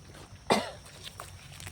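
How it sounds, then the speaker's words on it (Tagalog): A single sharp cough bursts out close by, brief and forceful, then fades into a quiet room with faint background rustle. "Grabe yung ubo ko."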